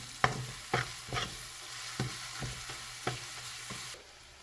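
Onions frying and being stirred in a pan while cooking pancit palabok, with scraping stirs landing in an uneven rhythm of about eight strokes over a steady, close sizzle.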